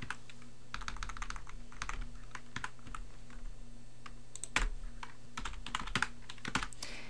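Rapid clicking keystrokes on a computer keyboard while writing HTML in the Sublime text editor, with irregular bursts of key presses and a few heavier taps, close and alone over a faint steady hum.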